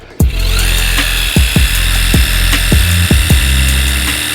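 A portable pressure washer blasts mud off a folding fat e-bike, making a loud, continuous hissing spray broken by repeated low thumps and knocks near the mic.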